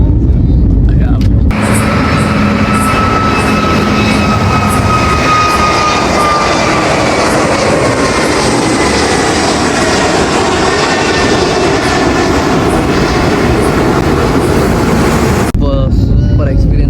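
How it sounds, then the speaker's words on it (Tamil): Inside an airplane cabin during takeoff, a loud, steady engine roar with whining tones fills the whole stretch, rising in intensity, and muffled voices sit faintly beneath it. "ஆக்சுவலாக டேக் ஆஃப் ஆயிடுச்சு பாருங்க"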